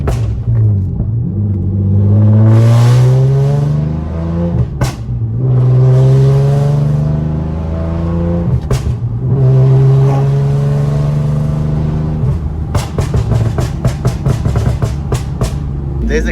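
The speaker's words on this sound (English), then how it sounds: "This exhaust is so aggressive." A swapped seventh-generation Nissan Maxima with an aggressive aftermarket exhaust revs hard through several rising pulls, loud and close, with sharp pops and crackles near the end and no talking.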